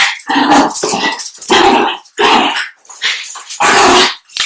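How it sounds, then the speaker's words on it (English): Puppies playfully barking and growling indoors, a run of loud, close yaps, rough growls and whimpers in rapid irregular bursts with brief gaps, no talking. "You hear my puppies playing?"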